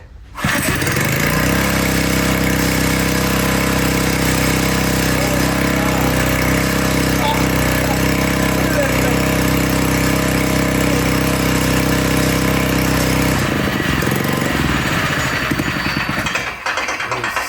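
A small homemade boat engine built from a saw blade, running on gas, runs steadily and loudly with a constant drone, then cuts out near the end, leaving a brief sputter.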